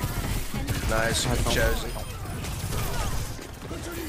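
Rapid gunfire in the video game Overwatch 2, bursts of shots mixed with game sound effects and a player talking over the action.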